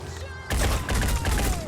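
A loud burst of rapid gunfire erupts in the turn-based strategy game Phoenix Point, following a moment of quieter ambience.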